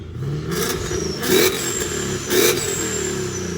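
A supercharged Ford Mustang with a valved exhaust revs with the valves closed, giving a steady engine hum with a supercharger whine and two short throttle blips that swell briefly, close by.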